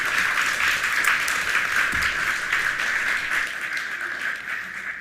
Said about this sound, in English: let's give an applause to Michelle.